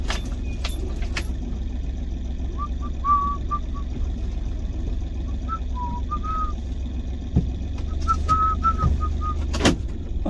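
A car manoeuvring into a parking spot in reverse, steady engine rumble throughout with a few short electronic reversing beeps and a jangle of keys, close and fairly loud with no talking.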